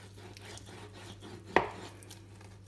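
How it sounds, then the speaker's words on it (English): A knife works through raw chicken leg flesh toward the bone, with faint soft scraping and then a single sharp knock against the board partway through, under a low steady hum. "If I start cutting through the flesh till I hit the bone"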